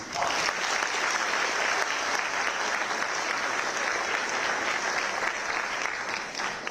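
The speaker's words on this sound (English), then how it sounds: "May we have a huge round of applause for all the dignitaries and attendees, please" A large hall audience at the Indian School of Business leadership summit in Mohali gives a big round of applause for dignitaries and attendees, a continuous, even roar of many hands clapping throughout.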